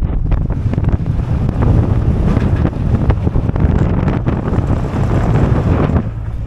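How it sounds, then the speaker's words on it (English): Strong outdoor wind buffeting the microphone on a farm, a loud continuous rumbling roar with gusty surges throughout and no talking. "You want to see how windy?"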